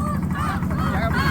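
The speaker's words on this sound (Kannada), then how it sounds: "ನೀರಿನಲ್ಲಿ ಬಾತು ಕೋಳಿ" Ducks on the water during a boat ride give loud, close nasal honking calls in a continuous run of overlapping cries.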